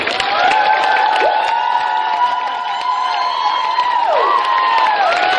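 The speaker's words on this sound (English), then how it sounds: "we want a big, huge round of applause for all of our guests" An audience at the Animaritime 2017 convention cheers and whoops for the guests, a loud, steady crowd roar with shrill shouts rising over it throughout.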